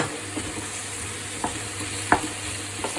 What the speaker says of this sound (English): I've got a wooden spoon and I'm just going to stir them in.